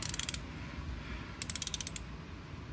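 A ratchet clicks rapidly in two short bursts while loosening the transmission drain plug on a 2019 Honda Ridgeline RTL, crisp and close over a low background rumble.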